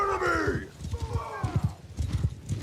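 Horses in a medieval strategy video game neigh and whinny while hooves clip-clop in a rapid galloping rhythm, loud and close, with a voice speaking over the battle sounds.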